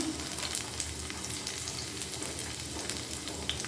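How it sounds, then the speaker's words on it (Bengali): Dried red chillies and onion frying in hot oil, a dense, even sizzle close by with faint stirring and no voices. "এখানে আমি চার পাঁচটা শুকনো মরিচ দিয়ে দিলাম একটু ভেজে নেব ভালো করে"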